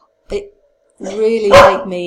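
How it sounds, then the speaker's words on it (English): A dog's woof cuts in alongside a person talking, a short burst near the start followed by a louder, sustained barking sound overlapping the speech. "excuse my dog having a woof"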